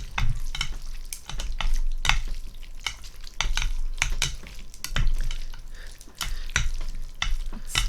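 Black bean noodles being stirred and mixed for eating, giving repeated wet squishing and slapping sounds in an irregular rhythm, close and fairly loud, with no talking.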